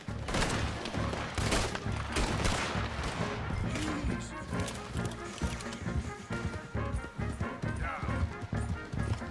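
Gunfire during a horseback chase in Red Dead Redemption 2, scattered shots mixed with galloping hooves and raised voices over a dense, busy mix.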